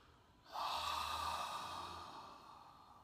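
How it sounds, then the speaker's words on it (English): An open-mouthed "ha" breath: after a brief quiet start, a long, loud, airy exhale with the throat open flows steadily for over two seconds, close up and alone, fading slightly at the end. "I like to work with what I call the ha breath. So as you're breathing, you're exhaling and you're letting the air out."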